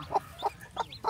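A hen clucks four times in short, evenly spaced bursts, close and moderately loud against a low background hum.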